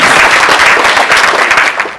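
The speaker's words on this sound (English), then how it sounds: "A big round of applause for our discussion." Dense, steady applause from a seated audience fills the room after a panel discussion at a prosecutors' symposium, a loud continuous wash of clapping with no talk over it.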